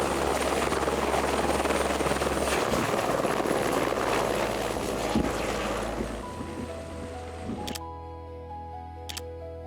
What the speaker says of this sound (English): the helicopter was kind of flying back and forth, delivering the guests from the top of the mountain back to the airport